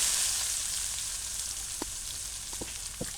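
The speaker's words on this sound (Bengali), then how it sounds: "এই তেলে আমি আর পেঁয়াজ কুচি দিয়ে দিম পেঁয়াজ কুচি দিয়ে দিলাম" Chopped onions hiss and sizzle loudly in hot oil left from frying eggs, a steady bright crackle that eases slightly, with a few soft utensil taps near the end and no talking.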